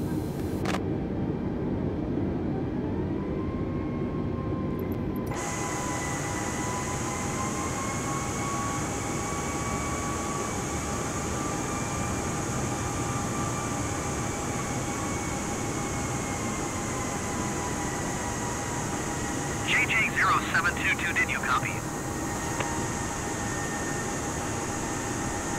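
Steady, droning engine roar from an aircraft taking off from runway 28 left at San Francisco in Microsoft Flight Simulator 2020, a constant hum with rising whine tones, holding level throughout, with a brief radio-like crackle later.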